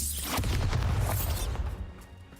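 A Bombarda spell explodes in the Hogwarts Legacy video game, a loud booming blast with a sharp onset that rumbles briefly and then fades, layered over dense game sound.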